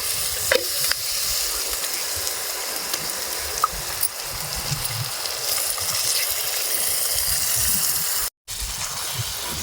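Masala and chicken sizzle and fry in a clay pot, a steady broadband crackle running loud and continuous with occasional stirring clinks, then cutting out abruptly for a moment near the end.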